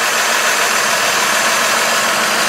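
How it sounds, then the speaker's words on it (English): A GMC engine idles roughly and shakes, a steady dense rumbling drone with a fine irregular flutter, loud and close with no voices. "we come to the engine, and we see the engine still shaking."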